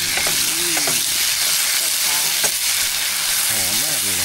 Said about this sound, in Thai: มาเดี๋ยวต่อไปนะเราจะผัดกะเพรากันแล้วนะครับ